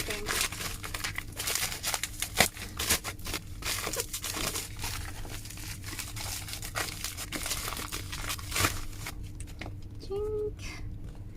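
The box and packaging of an iPhone 15 Pro Max are opened with close crinkling, rustling and tearing of plastic wrap and paper, and occasional voice sounds are audible near the end.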